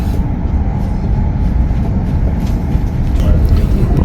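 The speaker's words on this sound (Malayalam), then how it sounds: "ഫ്ലൈറ്റ് യാത്രയേക്കാൾ സുഖകരമാണ് ഈ ട്രെയിൻ യാത്ര" Steady, loud low rumble of a Chinese high-speed bullet train heard from inside the carriage, a continuous broadband roar with faint rattles throughout.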